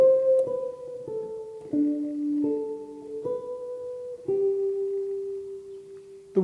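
A jazz guitar phrase plays a short, clean melodic line of sustained notes, each note ringing into the next at moderate volume, with no voices.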